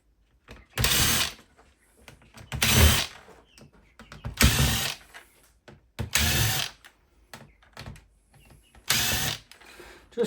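A power driver whirs in five short bursts, about a second each and evenly spaced, as screws come out of a karaoke machine being scrapped for parts. Quieter rattling and handling noise fill the gaps, and no one speaks.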